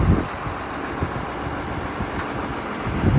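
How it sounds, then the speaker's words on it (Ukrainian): A John Deere 7430 tractor engine runs steadily during loading, a continuous loud low rumble with a few faint knocks, no voices. "Здійснюємо завантаження ось такого тракторця John Deere 7430"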